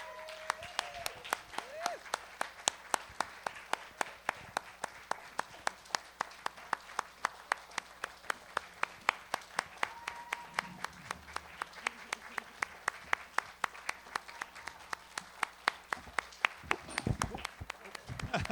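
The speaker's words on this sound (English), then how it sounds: "give you all a big round of applause" Audience applause for storytellers called back onstage at a community storytelling showcase in Beaverton, heard as a steady run of sharp, evenly spaced claps with voices talking underneath.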